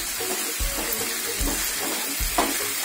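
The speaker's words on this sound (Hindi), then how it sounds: "इन सारे परवल को इसमें डाल देंगे इस तरह से और इसे चला लेंगे।" Stuffed parwal fry in masala while a spoon stirs them, a loud continuous close sizzle with dull, rhythmic knocks of stirring against the pan.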